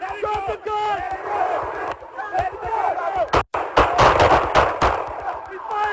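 Several sharp gunshots ring out in quick succession during a Los Angeles police arrest of an armed carjacking suspect after a three-car crash, loud and close amid urgent shouting voices.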